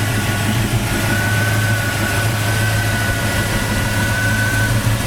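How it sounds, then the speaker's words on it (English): A 1939 Chevy street rod with an automatic transmission and electric fan idles steadily, its engine giving a constant, close, even rumble with no revving across the whole stretch. "Engine sounds great, runs great."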